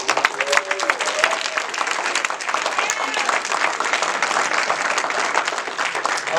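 Audience at an NAACP Martin Luther King Day gathering applauds young people and students, a dense, steady wave of clapping lasting several seconds with scattered cheers.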